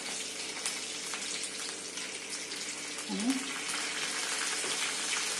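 Curry leaves and sliced green chilies frying in hot oil, a steady dense sizzle that holds throughout, with a brief louder crackle partway as more go into the pan.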